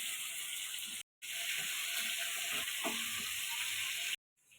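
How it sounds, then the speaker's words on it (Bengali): Potatoes and tomatoes frying together in a pan, a loud continuous close sizzle with faint stirring scrapes, broken by two brief silent gaps. "আমি আলু টমেটোটা একসঙ্গে ভেজে নিচ্ছি"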